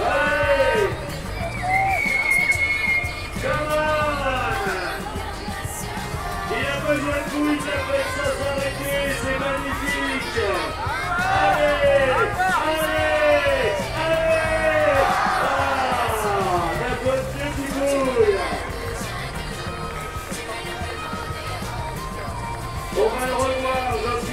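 Spectators at a youth lead climbing competition in Noumea cheer and whoop loudly for a climber, rising and falling shouts layered with yells and calls over continuous crowd noise, peaking around the middle.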